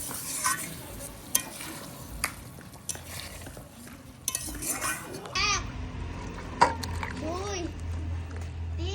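Ground whole garam masala is stirred into a dish cooking with ghee, giving a soft sizzle, scraping, and occasional clinks of a spoon against the pot while voices talk nearby.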